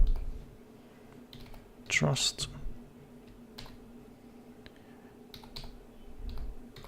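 A computer keyboard clicks as a command is typed, a cluster of quick close keystrokes followed by a few scattered taps, soft and near, with a voice speaking in the background.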